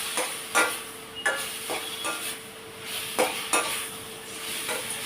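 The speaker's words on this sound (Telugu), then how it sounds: "దీంతో పాటే వేసేసుకుందాం బెండకాయలు కూడా. ఇవి కూడా మనం కలుపుకుందాం." Okra and tomatoes frying in a pan are stirred with a utensil, giving a steady sizzle punctuated by sharp, regular scraping clinks of metal against the pan.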